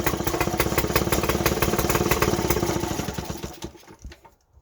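A 1950s Qualcast Sixteen hand-cranked lawnmower engine, choked, chugging at a fast, steady idle up close, loud at first and then sputtering and dying away in the final second.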